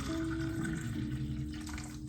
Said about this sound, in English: And I'm gonna add the tap water.